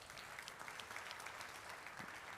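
Audience applauding at the Dubai World Cup post position draw, a faint, steady patter of clapping from a crowd heard at a distance.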